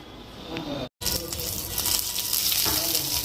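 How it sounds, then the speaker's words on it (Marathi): Coriander, ginger and garlic sizzle steadily in hot oil, a dense close frying hiss with faint stirring and a brief cut near the start, with low talk in the background. "मी ना थोडीशी कोथंबीर पण तेल टाकून परतणारे आहे आलं आणि लसूण पण मस्त परतणारे"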